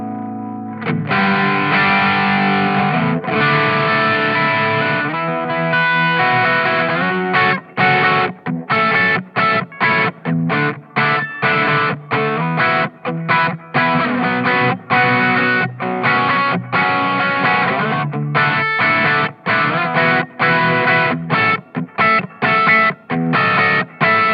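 Electric guitar through a Boss OD-2 Turbo Overdrive pedal, heavily overdriven, plays sustained chords and then choppy riffs, with a thick, saturated tone and no talking.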